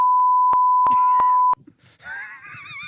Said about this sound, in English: obviously you heard that beep